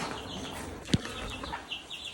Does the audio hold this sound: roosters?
yes